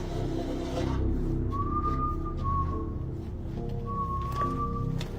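A thin, wavering human whistle drifts through two long, drawn-out phrases over a low droning background, sounding slow and unsettling.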